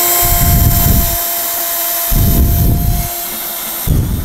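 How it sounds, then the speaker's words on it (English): A power drill runs close and loud in bursts, driving into a car body to attach a ground wire ring terminal, its whine rising and easing over a steady motor hum. "we are going to drill that into this spot that we have just cleared"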